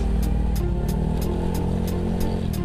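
A Honda Scoopy scooter fitted with a Speedspark open looper exhaust revs steadily nearby, its loud, droning engine note holding with a faint regular ticking above it.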